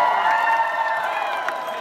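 Oktoberfest opening crowd cheering and whooping at a keg tapping, a dense, steady roar of many voices with no break, fairly close and loud.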